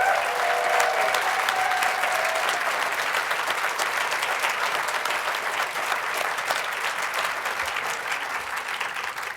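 Sustained applause from an audience recognizing a Massachusetts College of Art and Design artmobile team at a community engagement awards event, a dense, even clapping that fills the room and fades slightly toward the end.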